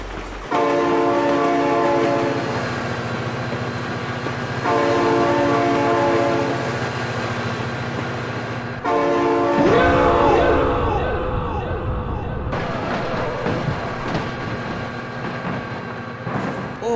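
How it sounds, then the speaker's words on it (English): A train in the BeamNG driving game rumbles past while its horn sounds in long, loud blasts, then the horn cuts out and the rushing of the passing cars carries on, with excited voices partly mixed in. "Oh my god, train!"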